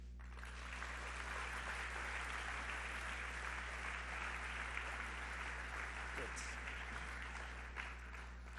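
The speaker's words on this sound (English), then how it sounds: "So then please, by applause, endorse this group of people" Attendees at a business meeting applaud to endorse a group of people. A faint, continuous patter of clapping runs throughout over a steady low hum.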